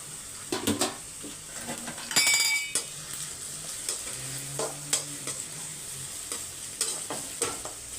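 Garlic, carrots and beans fry in a pan for fried rice, a steady sizzle under repeated spatula stirs and metallic clinks of utensil against the pan, with one sharp scrape.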